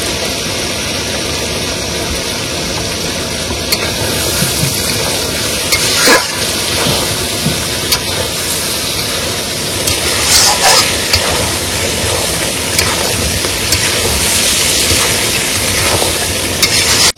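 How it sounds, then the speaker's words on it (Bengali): Meat spiced with chilli powder and black pepper stir-fries in a pan outdoors, a loud constant sizzle under a low engine-like hum, broken by occasional scraping stirs. "তাহলে মাংস মোটামুটি একদম কষিয়ে দিলাম"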